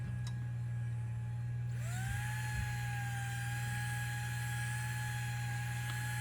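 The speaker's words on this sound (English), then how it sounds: "It's just a router with a stone on it." Router fitted with a sharpening stone grinding planer blades, a steady high motor whine with a tonal ring that rises as it spins up and then holds evenly, close and continuous over a constant low hum.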